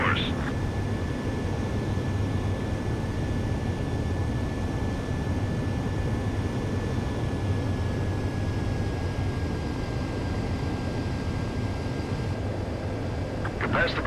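A jet fighter in the Ace Combat 7 video game flies its landing approach to a runway: a steady, broad engine roar holds throughout, with a faint tone in the mix and a radio voice over it.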